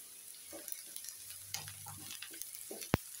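Shredded boneless chicken, boiled with a little salt, is stirred with capsicum in a pan for a cheese sandwich filling, with faint scraping, soft taps and a light sizzle, and one sharp clack near the end.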